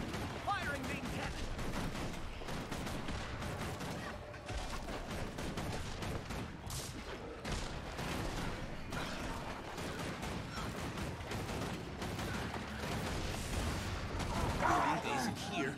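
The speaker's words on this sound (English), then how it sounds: "Firing main cannon" Main cannon of a golem firing in Guild Wars 2, a dense, continuous barrage of loud explosive blasts and crashing impacts running throughout, with game speech mixed in underneath.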